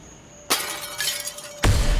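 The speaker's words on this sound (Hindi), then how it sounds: "कांच टूटने की आवाज" Glass shatters at night in a room in a Hindi crime drama, a bright crash followed by tinkling fragments, then a second heavy crash with a low thud, loud and close.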